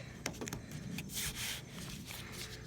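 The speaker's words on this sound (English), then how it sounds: "You got your sandpaper on the block." Rough, scratchy rubbing strokes of sandpaper on a sanding block against a car body's tight contours, several quick back-and-forth passes, close and fairly quiet.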